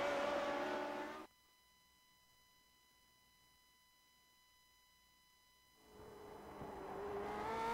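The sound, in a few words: Lotus 79 race car engine on an onboard lap in a racing video game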